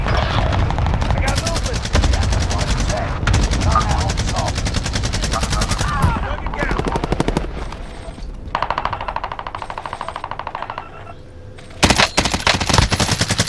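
Sustained automatic gunfire in a battle royale shooter, loud and close, with long rattling bursts, brief gaps and a sharp renewed volley near the end, with voices talking over it.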